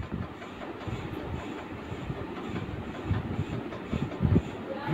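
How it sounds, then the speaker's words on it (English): A train pulls out of a station with steady rumbling and rhythmic clattering of wheels on rails, building slightly toward the end. "The train pulled out of the station."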